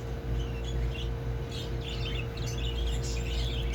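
A colony of pet budgerigars in an aviary chirps and twitters in overlapping bursts on a hot summer day, bright calls scattered over a steady low background hum, no voices.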